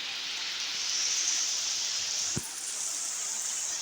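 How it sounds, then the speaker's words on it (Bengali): Heavy rain falls through the night over a village with the power out, a soft, even hiss that continues unbroken, with a single sharp tap partway through. "এই যে বৃষ্টির আওয়াজটা অন্তত শোনাতে পারতেছি"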